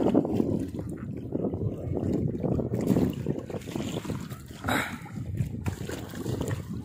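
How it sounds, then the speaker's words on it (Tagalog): Steady wind gusting over open sea off Hilutungan Island, Cebu, a constant rushing roar with a brief louder swell partway through. "Medyo mahangin."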